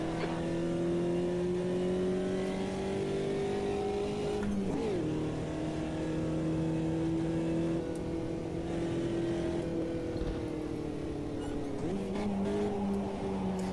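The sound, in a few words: race car engine in a racing video game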